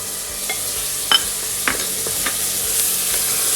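Onion and ginger garlic paste fry in a pan with a steady loud sizzle, while a spoon stirs and scrapes in a few distinct strokes, close and alone.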